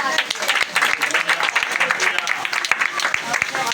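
A church congregation claps loudly and continuously at a prayer service, a dense burst of hand claps with voices mixed in.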